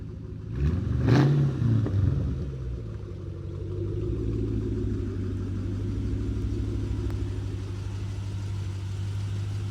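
Ford vehicle on a test drive, a steady low engine rumble that swells briefly as it accelerates, then settles into an even cruising drone.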